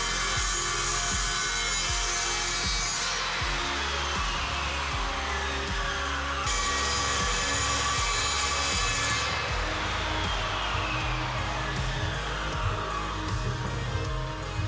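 A woodworking saw cuts a 3 mm aluminum composite panel, white on both faces, for a camper build: a continuous loud, harsh rasping buzz that runs without a break, with a couple of shifts in pitch along the cut.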